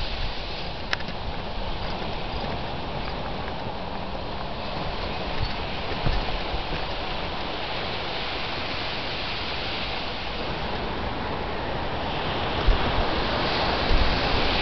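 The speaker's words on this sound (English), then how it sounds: "That's Montauk, the beach. Montauk is the furthest end of Long Island that you can go on the South Shore. That's the Atlantic Ocean." Atlantic Ocean surf at Montauk beach, at the far end of Long Island's South Shore, makes a loud, steady roar of breaking waves with wind rushing over the microphone, unbroken and without voices.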